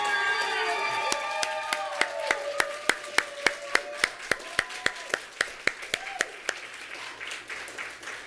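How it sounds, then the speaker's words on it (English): An audience claps at a graduate comics reading, crisp evenly spaced claps in a steady rhythm that swell and then fade, with a speaking voice over the opening second. "stand up and turn around and give them applause"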